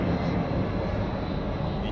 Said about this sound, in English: you do hear what sounds like a jet engine